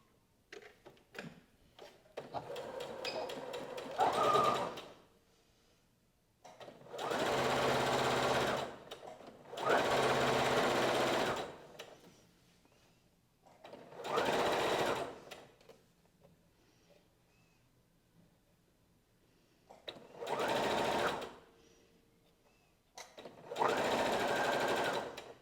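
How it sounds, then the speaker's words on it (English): A sewing machine stitches lace onto a top in several separate bursts of steady whirring, each a few seconds long, separated by short quiet pauses with faint handling clicks, close and clear. "I'm just gonna sew it"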